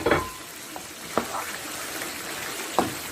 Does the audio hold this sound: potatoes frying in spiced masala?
yes